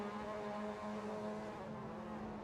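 Mazda MX-5 race cars in a racing video game at the Feldbergring, several engines droning steadily together as a pack heads into a hairpin, loud and continuous with no talk.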